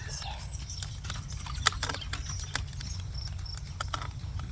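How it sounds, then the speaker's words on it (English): A horse pulling a wagon clip-clops down a street, its hooves a steady patter of faint, distant clicks over a low rumble, with quiet talk underneath. "just a horse and wagon going down the street"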